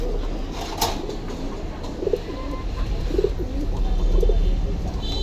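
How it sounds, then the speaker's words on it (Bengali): A male pigeon in an open cage coos in a few soft, rounded bursts against steady low background noise, with a brief flutter or clatter near the start. "এই যে দেখতে পাচ্ছেন এই নর কবুতরটা আমি দিয়ে দেখাই আপনাদেরকে"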